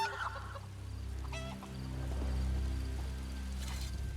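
Chickens clucking in The Elder Scrolls Online game, a steady fowl chatter over a low ambient game hum, moderately quiet and continuous with no talk.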